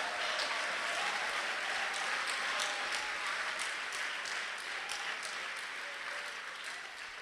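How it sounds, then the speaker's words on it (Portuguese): Church congregation applauding loudly and steadily, a dense, even wash of many hands clapping throughout, slightly easing toward the end, with no voices over it. "Vamos aplaudir bem forte ao Senhor."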